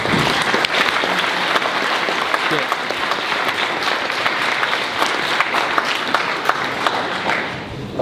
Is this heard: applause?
yes